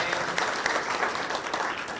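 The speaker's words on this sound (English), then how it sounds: "Everyone give a round of applause for Malia." An audience at a creator conference session breaks into brisk, full applause, many hands clapping in a loud, continuous wash for a couple of seconds.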